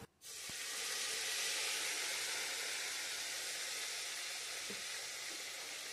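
Green chili, tomato pieces and ginger hit hot oil for a vegetable khichdi, bursting into a steady, bright sizzle that fills the pan and holds evenly for several seconds, quiet and close, with no talking.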